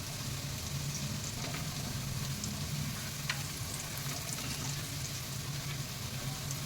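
Garlic and ginger fry in oil in a pan for dal khichdi, giving a steady, even sizzle with faint stirring scrapes, close and continuous with no talking.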